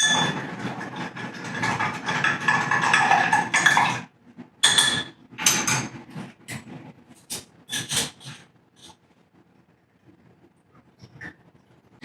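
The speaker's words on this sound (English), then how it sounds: "The finishing touch is I'm going to stir and strain." Ice clinks and rattles as an Old Fashioned is stirred and strained at a home bar, a dense stretch of clatter for several seconds, then scattered sharper taps and glassy clicks trailing off into near silence.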